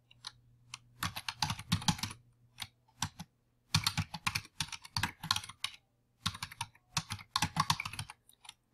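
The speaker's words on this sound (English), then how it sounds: "I would type in here a description for the content." Computer keyboard typing in bursts of rapid, close key clicks separated by short pauses, repeated several times at a steady moderate level with no talking.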